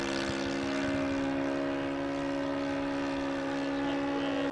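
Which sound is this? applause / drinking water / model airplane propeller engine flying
model airplane propeller engine flying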